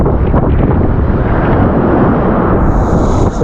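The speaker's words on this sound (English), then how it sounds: "Still some fairly strong wind." Strong wind roars and buffets across the microphone on a boat out bass fishing in heavy swell, a loud, constant low rumble filling the whole stretch with no talk.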